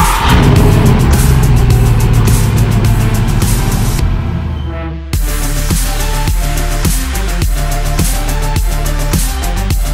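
A Mercedes-Benz AMG car engine runs loudly and steadily while driving, a dense mid-range roar with rising revs, a brief dip around the middle, then a strong pulsing drone.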